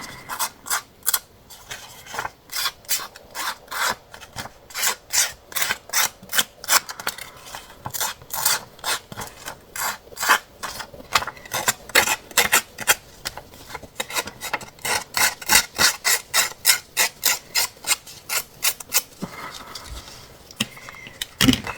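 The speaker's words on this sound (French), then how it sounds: "Et là, on gratte." Paper is scraped over and over while a vintage scrapbooking card is made, giving a long run of quick, regular rasping strokes that come close and clear, with a few short pauses between bursts.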